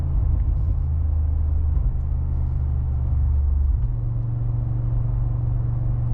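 A 2025 Mercedes-AMG G63 with a V8 engine drives through corners in Sport Plus suspension mode, a steady low engine drone and road rumble heard from inside the cabin, with subtle shifts in tone.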